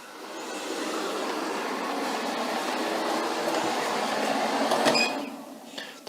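A robot vacuum and mop combo runs across a ridged carpet, giving a steady, close whirring drone with brushy texture that holds level for several seconds, swells slightly, then eases off near the end.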